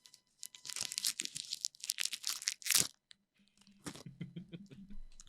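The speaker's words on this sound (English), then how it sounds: "We'll do a little unwrapping ASMR real quick." A snack wrapper is torn open and crinkled close up, with sharp rustling bursts for about three seconds, a short pause, then softer crumpling and handling.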